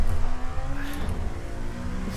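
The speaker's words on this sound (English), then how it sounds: "I really hope you like traction control noises, because you're probably going to hear a lot of them." A race car in a Daytona racing video game whines and hums continuously with engine revs and traction control stutter, close and steady throughout the short stretch.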